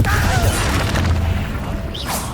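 A Confringo blast spell in the video game Hogwarts Legacy: a loud, sustained booming explosion with crashing debris that fills the whole moment and fades slightly toward the end.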